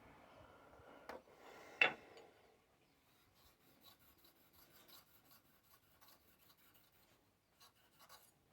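Spokeshave blade made from an old mower blade being stropped to remove a burr: a couple of short rasping strokes near the start, the second louder, then faint scattered scraping and rubbing.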